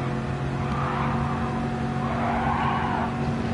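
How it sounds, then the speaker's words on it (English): A Chevrolet race car engine in the driving game Gran Turismo 7 drones steadily at a constant loud level, with a faint tire-squeal texture over the continuous motor hum. "this engine sounds nice"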